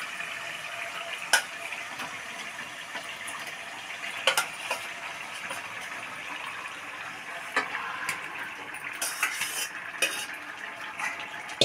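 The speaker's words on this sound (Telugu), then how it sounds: "ఇప్పుడు దీనిలో మనం ఈ పసుపు ఉప్పు కలిపినటువంటి చికెన్ని దీనిలో వేసుకోవాలి." Chicken coated with turmeric and salt goes into hot masala in a pan and is stirred for a chicken curry, giving a steady scraping sizzle with sharp utensil clinks against the pot every few seconds, close by and with no talk.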